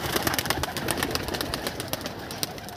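Pigeons coo and flutter close by, a busy mix of bird calls and scuffling wing sounds over a constant background hiss.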